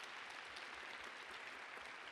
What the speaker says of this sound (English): So we want to give a big round of applause for that support,